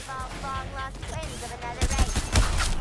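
Rapid bursts of gunfire from a fast-firing weapon in Suicide Squad: Kill the Justice League, loud sharp shots clustered near the end over game music and effects.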